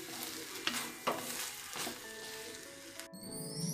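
Vanpayar thoran with kayatholi is mixed in a pan in coconut oil, a soft sizzle under a few scraping stirs of a spoon against the pan, fairly quiet overall.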